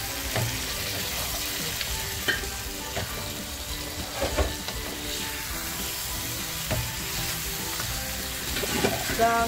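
Mutton masala sizzles in a pan while being stirred, a steady frying crackle broken by soft repeated scrapes and taps of the spoon, fairly quiet and close.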